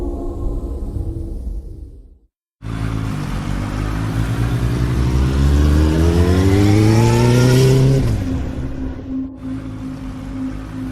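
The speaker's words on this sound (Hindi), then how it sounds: "नील बाइक से अपने घर जाने के लिए निकला।" A motorbike engine rides along at night in a horror-story sound effect. It cuts out briefly, then returns and accelerates with a steadily rising whine before easing off. No voices are heard.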